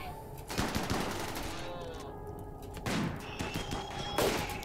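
Bursts of gunfire from the video game RimWorld, with several rapid volleys of sharp shots and thuds spaced across the moment, loud and close.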